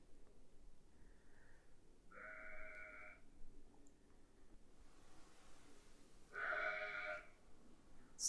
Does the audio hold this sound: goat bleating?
yes